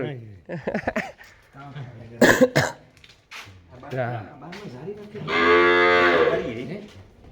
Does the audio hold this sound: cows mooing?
yes